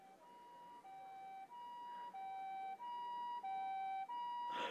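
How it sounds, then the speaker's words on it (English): An ambulance siren in the video game ChäoS;HEAd wails in a repeating two-tone hi-lo pattern, loud and alone, cycling about seven times with a short noisy burst at the end. "Another ambulance arrived on the scene, blaring its shrills."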